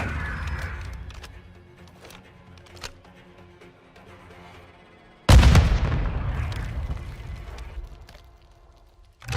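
A single loud gunshot-like blast with an explosion boom in Modern Warfare II, sharp onset then a long decaying rumble, following quieter in-game ambience and small clicks, with a faint thump at the very end.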